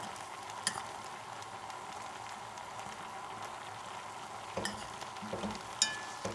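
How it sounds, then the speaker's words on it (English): Steady low simmering and bubbling from a pot of boiling onions, with a few clinks and scrapes of a spoon against the rim and no voices. "the onions have been boiling for a little while now"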